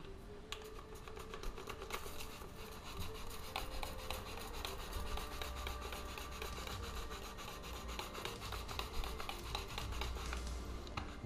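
A brush scrubs a stain on a carpet rug, a steady rapid scratching and rubbing close up, with rhythmic strokes throughout and no talk.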